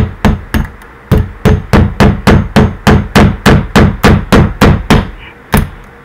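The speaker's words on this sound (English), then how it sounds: "Push it in, or use the hammer." A hammer strikes a part about fifteen times in a steady rhythm, each blow loud, close and ringing briefly, with a short pause after the first two.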